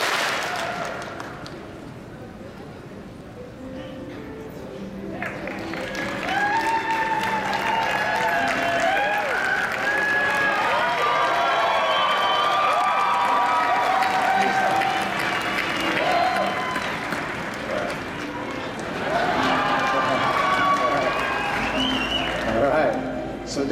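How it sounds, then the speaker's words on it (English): Audience applause at a Kiwanis International world convention in Las Vegas, a large hall crowd clapping in sustained waves with brief lulls, swelling after a quieter opening with some crowd noise. "Next up is the Central USA, and let's give them one clap."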